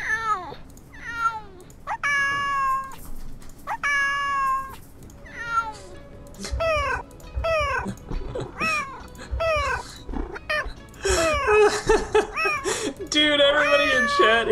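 Synthetic meows from a robot cat in the Nancy Drew game The Shadow at Water's Edge repeat in a rapid series of bright, pitched cries, with voices talking and laughing over them.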